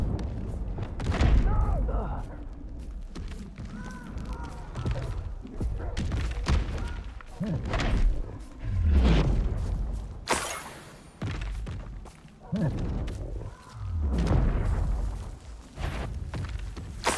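Incendio fire spell blasts in Hogwarts Legacy gameplay: repeated heavy booming thuds and whooshing bursts of flame in irregular succession, loud and close, with combat clatter between them.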